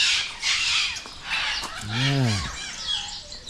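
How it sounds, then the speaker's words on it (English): Birds calling near a walking path in Robertson, South Africa, with several short squawks and one clear descending call, moderately close, with a brief voice. "A lot of birds here."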